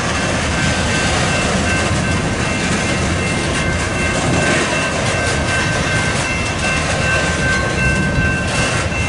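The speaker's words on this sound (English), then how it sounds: "it's pretty cool seeing BNSF coal hoppers" A BNSF freight train of coal hopper cars rolls past close by, a loud, steady rumble and rattle of wagons with a thin metallic ring above it, unbroken for the whole stretch and with no voices.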